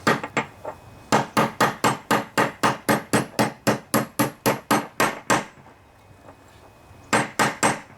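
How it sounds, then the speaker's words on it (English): A big socket hammered against a bearing to seat it in the deck of a John Deere LA145 riding lawnmower: a fast, steady run of about twenty sharp metallic blows, a brief pause, then four more strikes, with no voices. "this bearing I'm going to put in place with just a big socket here"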